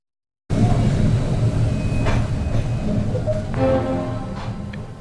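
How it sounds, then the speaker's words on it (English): A Melbourne route 96 tram bound for St Kilda, running on street rails in 2014, gives off a steady close rumble with rattling and rail clatter, with a few sharper clanks partway through. "We have now joined the 96 tram for a journey to St Kilda."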